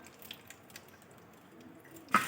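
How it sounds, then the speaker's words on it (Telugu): Soaked meal maker chunks are squeezed by hand over a bowl, giving a few soft, sparse drips before a sudden close splash of water pouring out at the end. "మొత్తం వాటర్ అలా పిండేసుకొని ఇలా వేసేసుకోవాలి"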